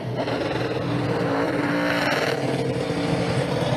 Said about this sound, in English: This is strictly a first gear burnout for Matt Kenseth.